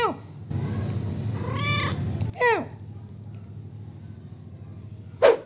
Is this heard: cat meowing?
yes